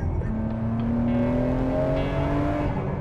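A Nissan GT-R engine revs hard toward 7,500 RPM, a loud sustained rising howl with climbing harmonic tones, close and continuous with no talking.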